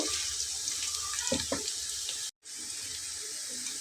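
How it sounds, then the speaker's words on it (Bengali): Bay leaves rinsed under a running kitchen tap while cooking beef dal bhuna, a steady close water stream splashing into the sink, briefly cut off for a moment before flowing again. "দেখুন, আমি তেজপাতাটা ধুয়ে ব্যবহার করছি।"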